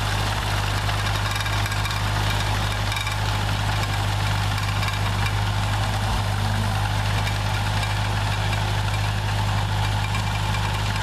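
A New Holland 451 mower's engine runs in a continuous, steady drone with a low rumble and slight vibration, constant and fairly near throughout.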